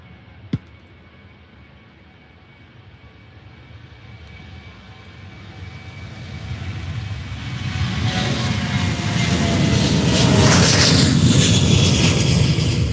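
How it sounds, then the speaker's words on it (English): A Ryanair jet airliner taking off at Faro Airport, engine roar swelling steadily from a distant hum into a loud, broad, sustained thunder with a sharp click near the start. "So here goes I think Ryanair takeoff."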